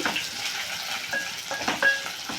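Dosa cooks on a pan with a soft, close sizzle broken by light scraping and clinking of a spatula at irregular moments.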